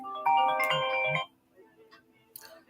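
A mobile phone rings with a short, bright electronic ringtone, about one second long, then cuts off, leaving faint room noise and small sounds during a livestream.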